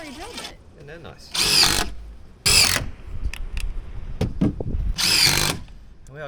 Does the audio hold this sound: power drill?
yes